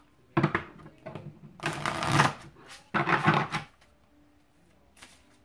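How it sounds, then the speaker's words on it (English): Cards riffle and clatter in three quick bursts, close up, with brief pauses between them and a faint tap at the end. "this deck shuffles nicely"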